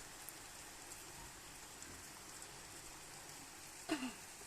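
Steady rain falls as a continuous hiss, moderately loud and even throughout, with a brief knock or clatter near the end.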